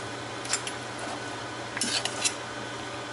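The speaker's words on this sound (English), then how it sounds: "It doesn't have to be perfect, just chop them." A knife chops cooked chicken quesadilla on a cutting board in a few sharp, close clacks, scattered in two small clusters over a low steady background hum, with no talking.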